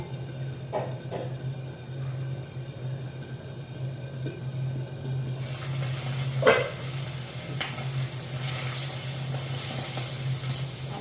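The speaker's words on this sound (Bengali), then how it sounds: "এই যে কষ্ট মিষ্টি এত করে ভেজেছি, এখনো রয়েছে কড়াইয়ের মধ্যে ভাজছি" Sweets fry in hot oil in a wok with a steady low sizzle, and occasional sharp pops and crackles break through, including one louder burst midway.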